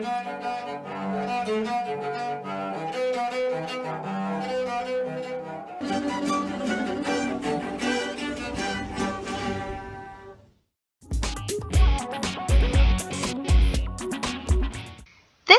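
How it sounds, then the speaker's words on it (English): A homemade cello built from an oil can and scrap wood: bowed notes with a warm, cello-like tone play a slow melody, pause briefly, then resume with sharper plucked or struck notes. "This cello is made from an oil can and wood that was thrown away in the garbage."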